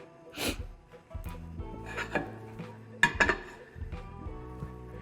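A pot lands on a stovetop burner with a few scattered metallic clanks and knocks of cookware, close by and moderately loud, as onions for chicken stock are set over medium heat.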